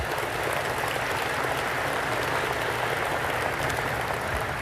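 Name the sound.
applause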